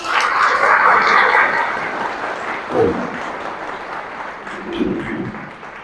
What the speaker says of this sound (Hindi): तो अपने लिए एक बार जोरदार तालियां हो जाए